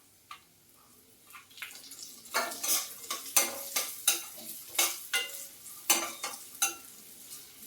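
Raisins fry in hot ghee in a pan for Antina unde, a traditional North Karnataka laddoo, with a soft steady sizzle. A utensil stirs and scrapes the pan in a regular rhythm of close, sharp strokes.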